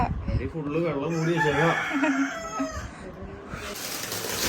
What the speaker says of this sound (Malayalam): ഇവിടുത്തെ കോഴിക്ക് ഭയങ്കര സൗണ്ടാണല്ലോ